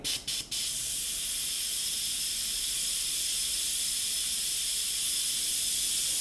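An Iwata Eclipse HP-CS airbrush sprays paint in a steady, close, continuous hiss, opening with two or three short bursts before settling into one sustained airflow for several seconds, with no voices.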